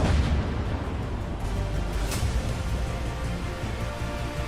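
Simulated impact of a 10 km asteroid striking Earth's land surface, a sustained deep roaring rumble with a dense explosive wash that stays loud and steady throughout.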